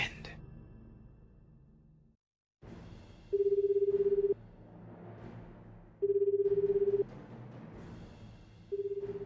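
A mobile phone call in the video game 428 rings out as a repeated ringback tone, a steady beeping about two seconds long that recurs three times over a low background hum.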